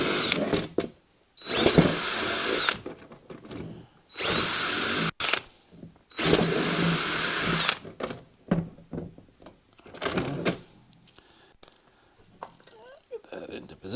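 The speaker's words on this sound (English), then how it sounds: "we're gonna open them up with a 5/16 drill bit" A power drill with a 5/16 bit enlarges bracket holes for a Newport Vessels NK-180S motor mount on a Hobie Pro Angler 360 kayak, three loud whining bursts separated by pauses, then lighter clicks and handling noises, with a voice speaking in between.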